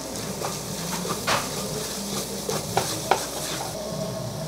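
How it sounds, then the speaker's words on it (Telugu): Tomato and onion masala frying in a pan while being stirred, a soft steady sizzle with occasional scraping clinks of a spoon against the pan. "టమాటా ఉల్లిపాయ అంతా పచ్చివాసన పోయే వరకు బాగా వేయించుకోవాలి"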